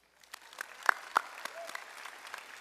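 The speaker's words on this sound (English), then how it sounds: "can we please give a round of applause" Applause from a high school graduation audience, sparse and quiet at first with a couple of sharper close claps, then spreading into soft, steady clapping across the crowd.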